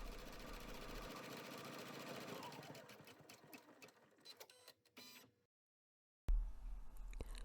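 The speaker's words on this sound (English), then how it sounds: "Place the hoop back on your machine and stitch the final step of the design." An embroidery machine stitches down a pocket design in a hoop, a dense rapid mechanical whirring and clatter running steadily before breaking into irregular stops, a short silence, then resuming loudly near the end.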